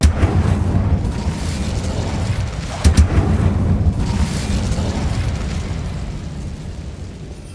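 A Bombarda explosion spell cast in the Hogwarts Legacy video game gives a loud, sustained rumbling roar, broken by a sharper booming burst partway through, with no voices.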